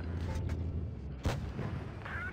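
A tank cannon fires once as a single heavy boom in WoT Blitz, from an E 75, set over a steady low engine rumble.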